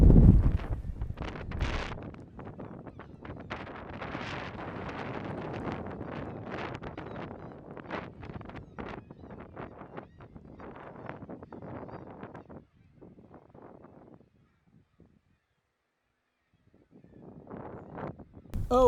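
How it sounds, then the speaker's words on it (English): Strong wind gusting across the microphone outdoors by the sea, a loud rumbling buffet through most of the stretch that dies to near silence briefly before gusting up again at the end. "hope you can hear me, it's very windy."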